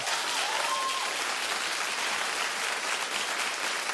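A television talk show studio audience claps steadily and loudly throughout, a dense, even wash of applause with no talk over it.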